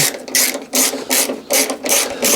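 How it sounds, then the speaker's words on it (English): A hand ratchet clicks steadily in quick, loud bursts while undoing bolts on the wing of a crash-damaged Fiat 500, close up with no talking. "So now we start to undo these bolts really, and get the wing off."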